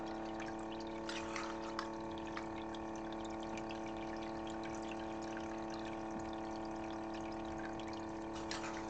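Water runs steadily through a gold prospecting sluice fed by a DC pump with a controller, a constant trickling flow over a steady mechanical hum, faint and unbroken.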